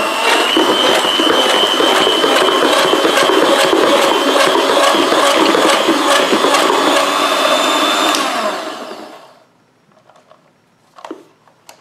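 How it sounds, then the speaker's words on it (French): An electric hand mixer whirs loudly and steadily as it beats cheesecake filling of cream cheese, powdered sugar, vanilla extract and crushed Oreos, then winds down and stops, leaving a few faint clinks. "on va battre avec un batteur électrique"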